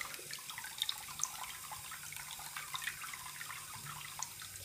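Tap water runs steadily onto a fake Hitmonchan Pokemon card, a continuous close splashing hiss broken by a few brief drip-like ticks, with no talking.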